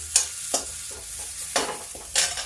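Peas and onions frying in a pan sizzle softly while a spoon stirs them, giving several sharp scraping strokes at an uneven pace, close by with no talking.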